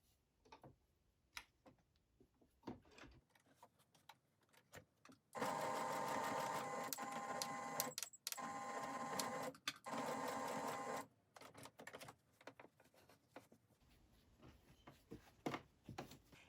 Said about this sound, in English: sew across to the top of the opening, leaving a 2-inch gap